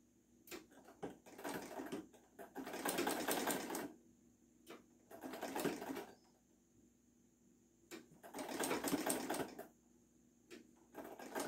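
A sewing machine stitches a yellow knit cushion cover in several short bursts of rapid mechanical chatter, each run lasting a second or two and separated by quiet pauses, heard up close.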